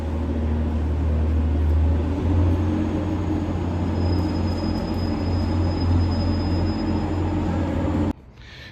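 Class 805 train at Carlisle station, a steady loud rumble of rolling stock with a long high whine running through the middle, continuous and close, cutting off abruptly near the end.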